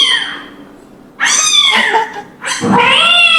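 Two drawn-out cat meows, loud and close, separated by a brief pause, with a quieter nasal cry fading at the start.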